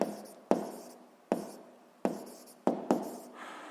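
A pen or chalk writes in a classroom physics lesson: five or six sharp taps, each followed by a short scratchy stroke that fades, close and moderately loud, with no voice.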